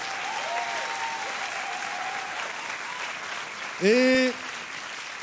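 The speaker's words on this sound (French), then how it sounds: "Ceux qui sont vraiment encouragés, faites un applaudissement," Church congregation applauding at a Christian service, a dense steady wash of clapping that holds throughout, with a brief tonal voice or sound rising over it near the end.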